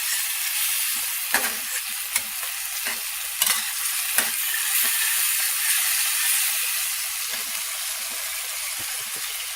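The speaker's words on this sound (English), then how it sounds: "Scrape the bottom of your pan" Spatula scrapes across the bottom of a sizzling pan with seasoned chicken for enchiladas, a few sharp scratchy strokes over a steady bright frying hiss, no voices.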